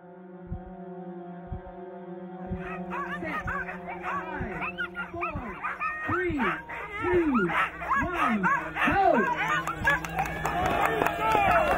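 Many sled dogs bark and yip together before the start of a 1,000-mile race to Nome, rising from a few scattered barks into a loud, continuous chorus of excited howls and yelps.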